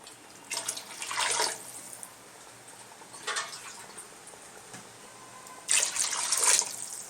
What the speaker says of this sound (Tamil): நம்ம தண்ணி 3 கிளாஸ் தான் சேர்க்க போகிறோம், சேர்த்து விடலாம்